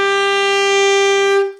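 An alto saxophone sustains a high E, bright and reedy, loud and close for about a second and a half before cutting off; no talking.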